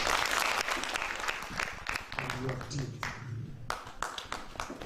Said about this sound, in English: Can you clap for your Chairman?